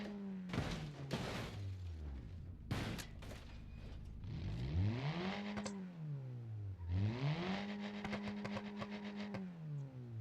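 Cars in the BeamNG.drive driving game rev and accelerate with rising and falling engine whine, among repeated crashing thuds and clattering impacts, loud and close, with no talk.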